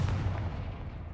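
A Confringo fire spell blast from Hogwarts Legacy lands as a heavy, booming burst with a dense low rumble that carries through the short moment, loud and close.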